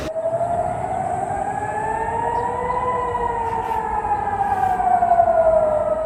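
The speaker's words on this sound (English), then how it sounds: "Air raid sirens have repeatedly sounded across Israel today." An air raid siren sounds across Israel, a loud, steady wail that slowly rises and falls in pitch over several seconds, carried over a broad rumble of background noise.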